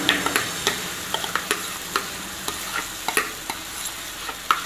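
Batter sizzles in a hot pan with a steady crackle and a series of light, irregular scraping and tapping stirs, fairly close and without talk.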